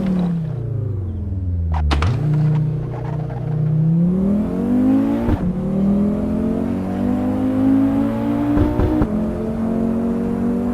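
A Volkswagen Golf MK7 in the racing game Assetto Corsa accelerates toward top speed, its engine note climbing steadily and dropping at each gear shift, a continuous loud drone with no talk.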